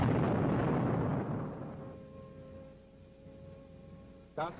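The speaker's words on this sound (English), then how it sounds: "But soon Germany was to be racked by another explosion." A deep, rumbling explosion from WWII archival footage roars loudly at the start and slowly decays into a fading hum, ending with a brief muffled thud.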